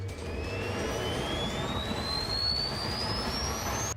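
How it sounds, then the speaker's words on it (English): A loud, steady jet-like roar with a high whine rising continuously in pitch from a jet-powered vacuum cleaner, sustained throughout without a break. "inventing a jet-powered vacuum cleaner which probably caused a bigger mess than its initial intention"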